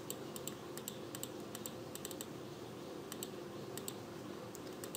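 Soft, quick clicks of typing on a computer keyboard come in bursts over a steady background hum, fairly quiet and close.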